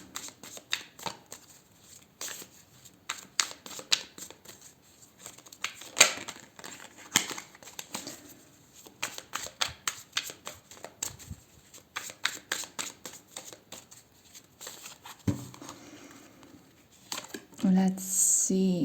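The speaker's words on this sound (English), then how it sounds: "I pre-shuffled all the cards, but I'm just gonna give them a little extra shuffle" Tarot cards getting an extra shuffle, a run of quick crisp riffling and flicking bursts that come in uneven bunches, with a person talking softly at times.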